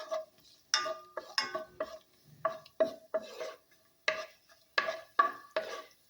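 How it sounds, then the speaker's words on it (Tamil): Cashews and raisins turn in hot ghee in a pan, heard as a string of separate scraping stirs and clinks with faint sizzle between them, fairly quiet and close, with no voices. "இப்போ நெய் காஞ்சிருச்சு இதில் முதல்ல முந்திரியும் திராட்சையும் போட்டு வறுத்து எடுத்துடலாம்"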